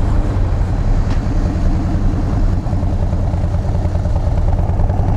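Motorcycle ride on a sunny day: a steady, loud engine drone with low rumble runs unbroken throughout, with no voices.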